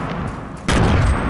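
Gunfire in Fortnite: a sudden loud burst of shots cuts in partway through, followed by sustained dense firing over quieter game ambience.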